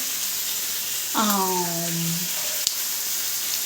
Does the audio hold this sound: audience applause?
no